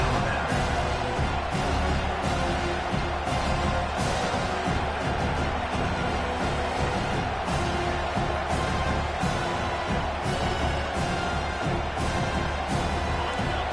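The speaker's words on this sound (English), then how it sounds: "This crowd bringing the energy and noise early." A large stadium crowd in a college football video game roars and cheers continuously in the background, a steady wash of distant noise with occasional swells.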